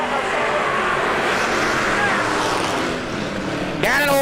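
Super Stock race cars roar around a speedway oval during a heat race, a dense, loud, sustained engine drone with a nearby engine rising in pitch at the end, with a voice over the noise.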